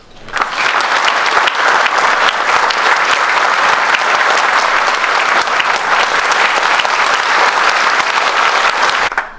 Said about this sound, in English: Can I request a round of applause for all of us?